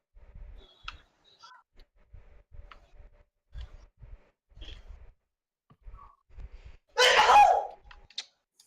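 A single loud, sharp sneeze bursts out near the end, after a stretch of quiet ticking and soft thuds.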